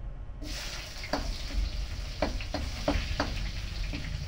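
Garlic and onion saute in a hot pan for Canton noodles, giving a steady close sizzle with scattered soft stirring clicks.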